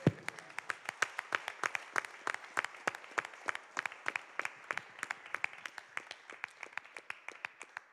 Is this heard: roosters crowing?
no